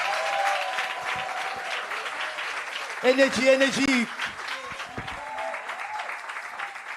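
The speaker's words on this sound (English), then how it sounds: "Another round of applause, ladies and gentlemen, for Gwenzwane from La Fezega." Audience applause at a workshop and expo, a crowd clapping steadily under a presenter's continuous amplified voice, with a louder surge of claps and cheers partway through.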